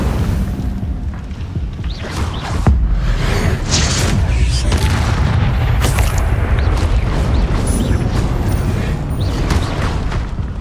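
Incendio fire spells cast in Hogwarts Legacy on Xbox Series X, loud continuous roaring whooshes and booming bursts of flame with dense crackle, no talk.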